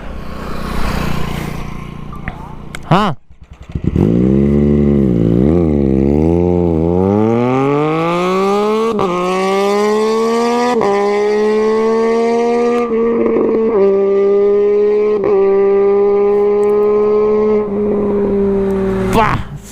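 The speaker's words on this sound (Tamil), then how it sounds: "சவுண்டை கேட்டிங்களா? சூப்பர் பைக்கோட அந்த இன்லைன் சிம்பனின்னு சொன்னோம்ல, அதான் இது." A 2020 Triumph Street Triple RS inline-three fitted with a CR Racefit exhaust starts up close by after a moment of background noise, then blips and climbs through rising revs, its loud, smooth engine note holding and dipping between throttle pulls.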